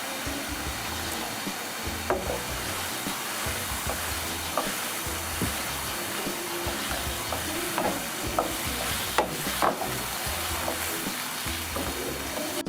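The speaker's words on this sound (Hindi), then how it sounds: "1 कप दही मिक्स कर दें अच्छी तरह।" Chicken karahi with a cup of yogurt being stirred into it in a pan, giving a soft continuous sizzle with light scraping clicks from the spoon, close and steady.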